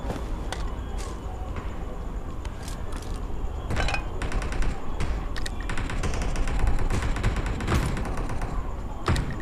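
An M16 rifle fires in bursts during a duo-versus-duo battle game match, with rapid cracks and thuds mixed into busy game noise at close range.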